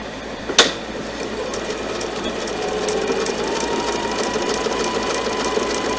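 A sewing machine stitches embroidery into a rope coaster in a steady, even mechanical whir, loud and close, opening with one sharp knock.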